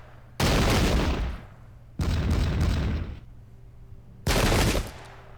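Musket volleys crack out in a video game battle of the American Revolution at Brandywine Creek, three loud, dense bursts of massed gunfire, each rolling away before the next salvo.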